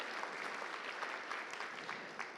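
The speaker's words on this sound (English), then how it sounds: "So Doug, you get a second handshake or round of applause" Faint, distant round of applause from an audience at a miniature painting awards ceremony at ReaperCon, a soft steady patter of clapping with a few sharper claps.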